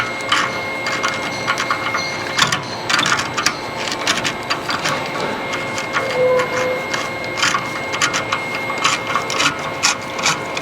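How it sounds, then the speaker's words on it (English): Clicking ratchet mechanism of a Ford full-floating Dana rear hub nut being tightened by hand, a run of sharp close ticks in uneven bursts, with no talk over it. "You can hear the ratcheting mechanism."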